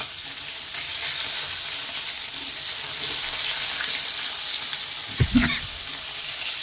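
Fish fries in very little oil with a steady, close sizzle and crackle, topped by a brief clatter near the end as the pieces are lifted out; no talking.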